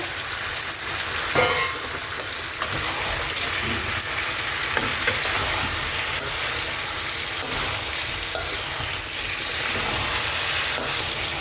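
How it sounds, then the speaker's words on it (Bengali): Chicken curry for a light jhol, with pre-fried potatoes, being stirred and sautéed in a pan. A continuous close sizzle runs throughout, broken by frequent scraping stir strokes, with no talking. "এবার আমি এতে ভেজে রাখা আলুগুলো দিয়ে দেবো, দিয়ে একসঙ্গেই কষবো।"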